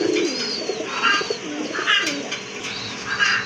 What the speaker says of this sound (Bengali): আরেক জোড়া কবুতর, কোয়ালিটিফুল কবুতর মাশাআল্লাহ